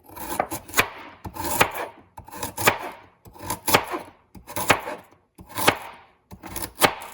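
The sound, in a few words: knife slicing peeled carrots into thin circles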